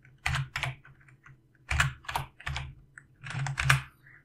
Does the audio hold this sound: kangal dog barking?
no